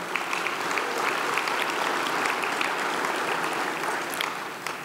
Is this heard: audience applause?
yes